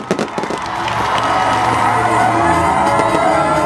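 A large crowd at an outdoor gathering in Koumassi, Abidjan claps and cheers loudly, opening with a few sharp bursts before settling into a sustained roar of shouts and whoops.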